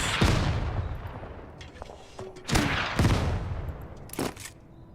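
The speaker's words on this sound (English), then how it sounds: "Mortars." Mortar fire in the tank strategy game Total Tank Generals: several loud, booming blasts land at intervals, each with a sharp onset and a rumbling tail, amid a continuous low battle rumble.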